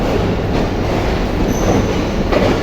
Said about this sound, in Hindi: rail car Lahore railway station पे आ चुकी है